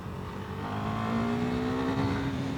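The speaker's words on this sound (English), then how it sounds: "If I drop it down into third and peel out" A Husqvarna Vitpilen 401 motorcycle pulls hard in third gear, its close engine note climbing steadily in pitch with a rising, strained whine over two and a half seconds.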